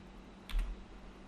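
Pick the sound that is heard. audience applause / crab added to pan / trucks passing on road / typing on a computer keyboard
typing on a computer keyboard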